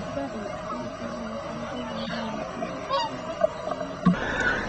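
Geese honk repeatedly at a distance over a steady outdoor background at Martin Mere wetland, with a few sharper calls near the end.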